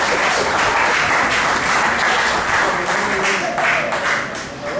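A church congregation breaks into loud, dense applause for the Lord, a continuous wash of many hands clapping close and full for several seconds before easing slightly at the end.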